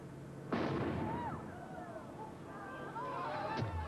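A cannon fires a dummy with a loud boom, followed by whooshing and rattling, then a second sharp thump near the end.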